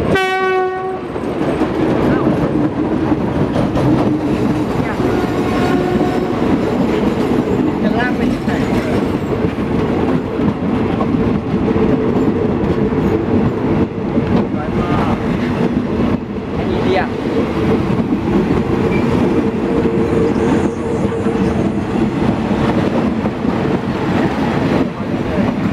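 Passenger train no. 177 pulling into Ratchaburi station in Thailand, loud and close throughout, with a horn blast near the start, steady rolling rumble and wheel clatter, and faint voices in the background.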